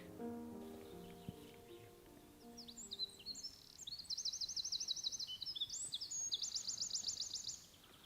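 Bright, rapid bird song in repeated trilled phrases, fairly close, with a low hum and faint rustling underneath.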